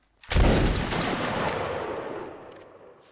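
A single massed musket volley in a line-battle video game, a sudden loud crackling burst of many shots at once that rolls into a long fading rumble over about three seconds.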